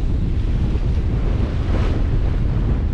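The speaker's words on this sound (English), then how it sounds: "Although it's extremely windy and intense," Heavy wind buffeting the microphone in a constant loud roar, with the wash of waves beneath, no pauses throughout, aboard a Westsail 32 sailboat at sea in stormy weather.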